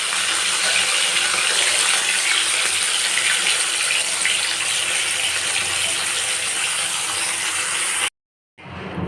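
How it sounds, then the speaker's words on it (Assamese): Fish frying in hot mustard oil in a wok gives a steady, dense, close sizzle that holds evenly, then cuts off abruptly near the end before faintly returning. "কেৰাহীত মিঠাতেল দি দিলোঁ আৰু ইয়াতে এতিয়া মাছখিনি ভাজি ল'ম।"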